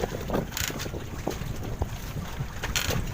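Strong wind buffets the microphone on a boat at sea, with rough gusting bursts and low rumbling, close and uneven across a few seconds.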